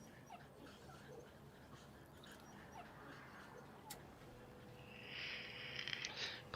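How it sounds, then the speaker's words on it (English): In a video game, a puppy whimpers faintly: soft, thin whines that rise into a brief, higher whimpering cry near the end, set against quiet background noise. "Puppy!"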